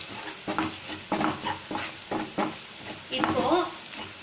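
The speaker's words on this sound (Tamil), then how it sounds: "நல்லா வதக்கிக்கலாம்." Chicken pieces being stirred and fried in a pan with Maggi masala, a steady sizzle broken by repeated scraping strokes of a spoon, close up.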